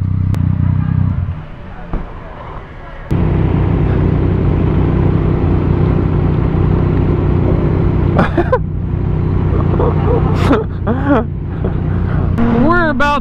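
Motorcycles ride along a road around Oklahoma City, a steady loud engine drone with wind rumble and a few rising revs toward the end, heard up close from the rider's position with voices in between.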